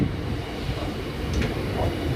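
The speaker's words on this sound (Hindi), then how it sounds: "ये मुझे वही लग रही है काठगोदाम देहरादून एक्सप्रेस" The Kathgodam Dehradun Express rumbling past in the hills near Haldwani station, with a steady heavy low drone of wheels and carriages and no break across the whole stretch.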